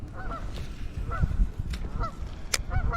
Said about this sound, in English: When the geese start saying red rum, I need to really keep an eye out.